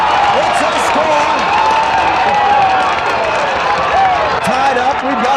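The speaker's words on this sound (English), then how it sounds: "Listen to this crowd" A dense roaring crowd cheers after a goal at a 1988 football match in Palermo, a steady loud wall of voices with whistles and shouts throughout.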